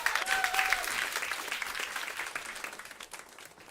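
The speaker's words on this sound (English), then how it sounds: "Please give them a round of applause." An audience at a chefs' event in New York gives a round of applause, with a burst of steady clapping and a brief whistle that slowly fades toward the end.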